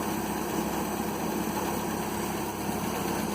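A 1967 Land Rover Series 2a 109 engine idles steadily with a constant low rumble and hum, close and unbroken, no talking.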